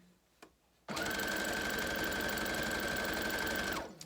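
After a faint tap, a sewing machine starts and stitches through felt in one continuous run of rapid, even needle chatter that lasts about three seconds and then stops. It is close and clear, with no voices.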